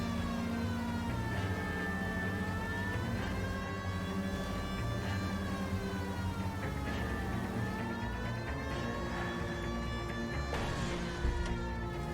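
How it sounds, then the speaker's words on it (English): Wailing police car siren from the L.A. Noire video game, rising and falling sweeps held steadily throughout at a fairly close, loud level over low engine rumble. "I have my sirens on"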